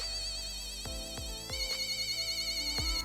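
An electronic bristle bot toy chirps with a warbling, siren-like tone over a low hum, with a few sharp clicks and a pulsing rise near the end.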